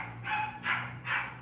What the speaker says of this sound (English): I'm sorry about that dog in the background.